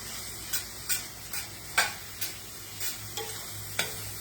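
Onions and tomatoes cooking in a pan, a soft sizzle with regular stirring scrapes about every half second, quiet and close, no speech.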